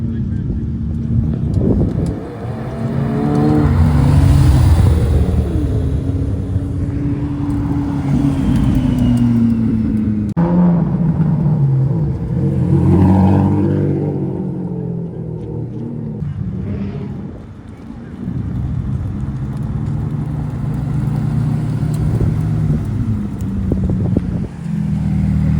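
A convoy of McLaren F1 and P1 supercars drives past during Car Week 2025, with engines rising and falling amid heavy wind buffeting on the microphone and people talking over the passing cars.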